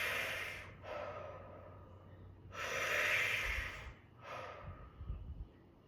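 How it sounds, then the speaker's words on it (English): Forceful mouth breaths during a squat exercise, three close, breathy hissing exhales and inhales in sequence, quiet and unaccompanied by talk. "3 mouth breaths here"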